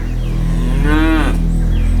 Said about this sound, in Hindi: अड़ियल भैंस है वो, नहीं मानेगी।